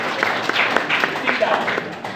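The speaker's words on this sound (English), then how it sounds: "Clap for them" An audience at an academic excellence event claps in a brief, dense patter under ongoing talk, the crowd's hands steady and moderately loud throughout.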